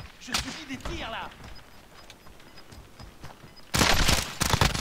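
Incoming gunfire in Warzone, with sharp bursts of shots scattered through the first part, then a loud sustained volley near the end, and a voice speaking briefly early on.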